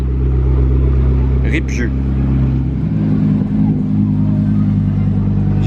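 Lamborghini supercars rally through Monaco's Casino Square, a loud, steady engine drone whose pitch shifts partway through as a car passes close, with people talking over it.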